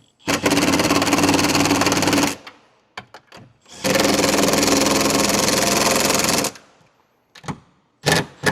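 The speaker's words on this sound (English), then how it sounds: "now I'm using a deep 10mm socket to just run it down" Two long bursts of a power tool with a deep 10mm socket running a nut down on a side mirror of a 2015-2021 Ford Transit 150 van, each a few seconds of loud buzzing whir, followed by brief clicks.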